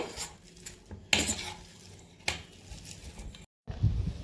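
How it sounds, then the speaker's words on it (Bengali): Boiled potatoes are mashed in a bowl, with intermittent utensil knocks and scrapes and soft squishing at a quiet, close level, plus a short silent gap near the end. "প্রথমে আমি এগুলোকে ম্যাশ করে নেব, আলুগুলোকে সিদ্ধ করে রেখেছিলাম সেটা আমি আবার ম্যাশ করে নেব"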